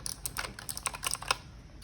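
Quiet, quick key presses on a Razer gaming keyboard, a short burst of clicky typing heard nearby.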